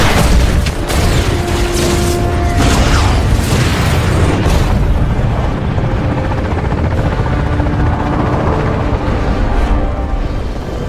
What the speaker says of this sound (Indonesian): Walau mendapat serangan bom dari helikopter musuh, Thomas tak gentar sedikit pun